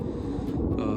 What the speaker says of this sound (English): I'm in a flight path to Raleigh-Durham Airport, so you might hear some planes